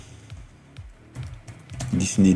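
Quick bursts of keystrokes on a computer keyboard, close and light, tapping a short search word amid faint room noise.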